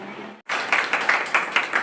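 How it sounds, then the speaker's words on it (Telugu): Audience applause at an appointment ceremony of a human rights committee in Andhra Pradesh, a near burst of many hands clapping with rhythmic swells that starts abruptly after a brief pause and continues steadily. "అందరూ గట్టిగా చప్పట్లు కట్టి ఆమోదించాలి."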